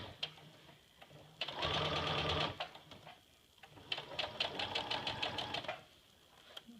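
A sewing machine stitches a stuff sack in two bursts, a fast rattling chatter that starts smoothly, pauses, then resumes with distinct needle strokes before stopping, close and fairly quiet.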